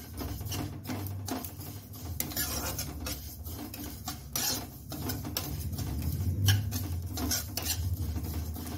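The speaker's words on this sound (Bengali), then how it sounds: "তিলটা ভালো করে ভেজে নিতে হবে যতক্ষণ পর্যন্ত তিল ভাজার একটা ঘ্রাণ থাকে" Sesame seeds are dry-roasted in a pan while a spoon stirs and scrapes them in repeated rasping strokes, with a steady rustle in between and no voices.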